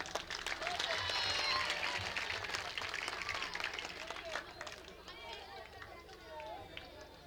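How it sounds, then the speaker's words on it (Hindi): An audience at a Hindi mushaira breaks into loud, dense applause, many hands clapping at once with crowd chatter mixed in, peaking early and gradually thinning. "जोरदार तालियां बजाइए"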